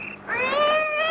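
A cat in a tense radio drama lets out a single clear, drawn-out meow, rising and held, close and alone against a quiet background.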